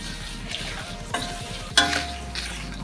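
Food stirred and fried in a pan over a low flame, with a steady soft sizzle under repeated scraping strokes and a couple of sharper clanks of the spoon against the pan.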